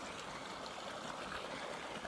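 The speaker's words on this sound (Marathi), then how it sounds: "आता बघा भावा नुसतं कसं पाणीच पाणी करतो" A stream of water flows steadily over muddy ground outdoors, making a constant close rushing wash that fills the whole moment without pause.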